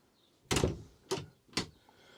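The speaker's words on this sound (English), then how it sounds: "there's a door here, sorry, this side, that pulls across and turns the whole back of the van into a little separate apartment" A sliding partition door inside a Rapido A-class motorhome, pulled across in three distinct rolling thuds of decreasing length, close and fairly loud with short gaps between.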